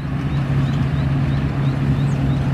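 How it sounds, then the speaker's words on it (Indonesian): A Yanmar AW70V rice combine harvester works a paddy field beside a road, its engine holding a steady, loud droning hum with a constant low tone and no breaks. "Ini mesin padi Yanmar"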